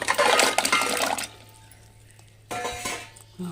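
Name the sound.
pouring water into a small pan cooker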